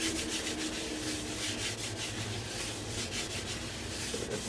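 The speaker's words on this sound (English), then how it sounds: "But I'm just going to wipe it with a little bit of oil." A cloth or paper wipe rubbing a little oil over a pancake pan in a home kitchen, a soft continuous scraping close by with a faint background hum.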